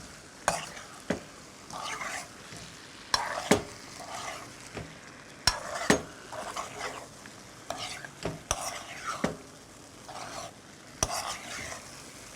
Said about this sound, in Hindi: ये देखिए इस तरीके से हम इसको अब मिक्स कर देंगे मसाले के अंदर।